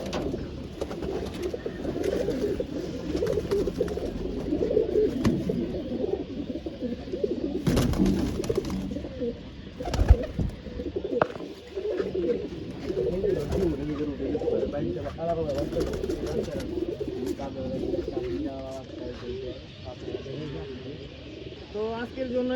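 Pigeons coo softly in a pigeon loft, their low rolling calls running beneath people talking nearby, with occasional chirps.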